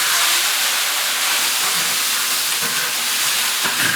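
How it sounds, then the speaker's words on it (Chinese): Lobster dropped into a hot wok while home-cooking a large family feast gives off a loud, steady sizzling hiss that fills the whole stretch without letup. "龙虾下锅。"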